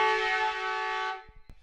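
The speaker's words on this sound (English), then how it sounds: "And there's a siren, and it's full time here at Dick Burwell Oval" Full-time siren at an Australian rules football match at a suburban oval, a loud sustained tone holding for about a second before cutting off, followed by faint crowd thumps.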